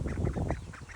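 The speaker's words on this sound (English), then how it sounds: "We got ducks and some specialty chickens." Ducks on a small farm kept alongside specialty chickens and goats, quacking in a busy run of repeated calls across the whole second, fairly close and steady.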